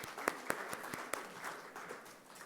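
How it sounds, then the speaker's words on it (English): Sparse, faint clapping from a small audience thanks conference panelists and speakers, a handful of distinct hand claps standing out over a soft patter that fades within a few seconds. "A big, huge clap for them"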